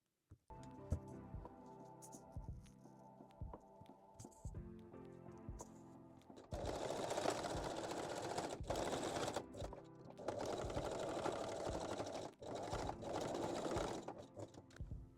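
A domestic sewing machine backstitches the center back seam of a lingerie bodysuit made from a bra, starting with slow, halting stitches before running in long, steady, close-up bursts separated by brief pauses.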